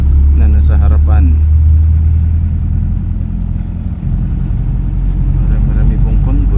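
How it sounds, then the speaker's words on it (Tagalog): A convoy of cars rolls along a road, a heavy, steady engine rumble and tyre drone heard from inside a vehicle, with people talking close by over it. "Yan po ang mga convoy ng sasakyan na nasa harapan."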